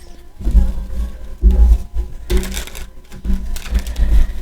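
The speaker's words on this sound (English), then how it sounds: "Let's go ahead and shuffle the cards" A deck of cards being shuffled, heard as loud, close riffling bursts that repeat several times in an uneven rhythm, with faint music in the background.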